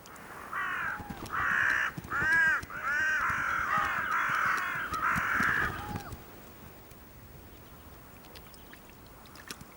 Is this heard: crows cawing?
yes